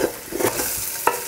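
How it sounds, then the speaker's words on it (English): Meat is browned in a pan for Afghan shorwa soup, with a quick stirring scrape or two over a soft sizzle in a brief burst, close and clear, with no talk. "And throw all of your meat in there. So you want to brown your meat."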